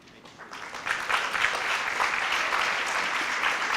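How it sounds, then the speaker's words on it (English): An audience at a senior awards ceremony breaks into sustained applause, the clapping swelling quickly after a quiet start and holding full and dense in a large room. "A lot of clapping, a lot of applause"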